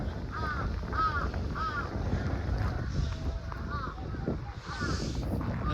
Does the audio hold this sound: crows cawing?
yes